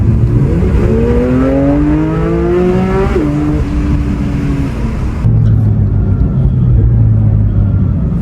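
A GT3 sports car engine revs hard, climbing steeply in pitch before a shift, then settles into a lower rumble; loud and close.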